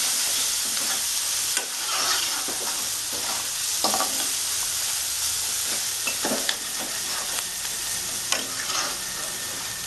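Turmeric and spices fry in oil for a Bengali-style mutton liver curry, a steady close sizzle broken by repeated scraping stirs of a spoon against the pan, with no voices.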